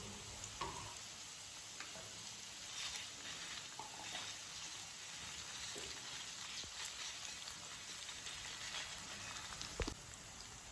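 Onions and ginger-garlic paste fry in hot oil, a quiet steady sizzle with faint crackles and a few soft stirring clicks throughout.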